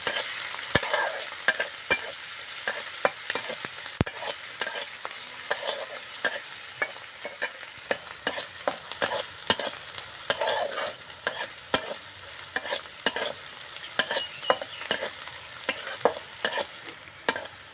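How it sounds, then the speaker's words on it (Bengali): Onion and garlic fry in oil in a pan with a steady crackling sizzle, and a spoon scrapes and stirs in frequent sharp strokes for the whole stretch, with no voices. "ভালো করে ভেজে নেব।"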